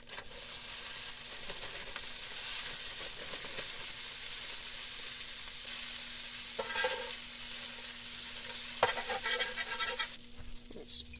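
Rice fries on a hibachi griddle inside a van while two spatulas flip and scrape it, giving a steady close sizzle with bursts of metallic clatter toward the end.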